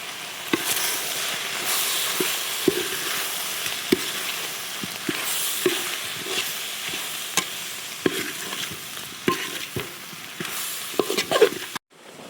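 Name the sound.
stirring and frying chicken gizzard with spices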